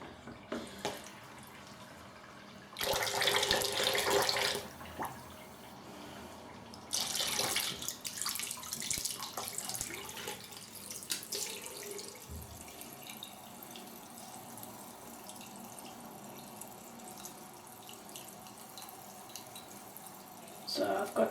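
Tap water running to top up a shaving mix in a bathroom, two short bursts of splashing flow from the faucet, then quieter drips and handling noises in a calm room.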